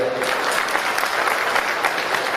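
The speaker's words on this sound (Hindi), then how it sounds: "लेकिन उनके लिए भी तालियां" A crowd at a national Buddhist vihara convention's closing session breaks into loud, dense applause, continuous clapping from many people close by throughout the short stretch.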